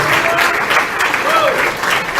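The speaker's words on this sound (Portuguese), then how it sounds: "Uma salva de palmas" Loud, steady applause from a congregation at a church service in Brazil, sustained for a couple of seconds with a faint voice underneath.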